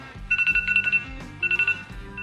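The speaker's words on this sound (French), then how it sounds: "c'est mon alarme pour me dire qu'il faut que j'aille me laver les dents" Phone alarm ringing, a bright electronic ringtone melody of quick repeating beeping notes in short bursts, fairly close, with no talking.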